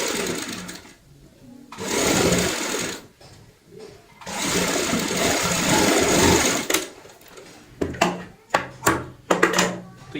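Sewing machine stitching a baby girl's cap, two long steady motor runs of whirring stitches, then a string of short stop-start bursts, close and loud with no talk.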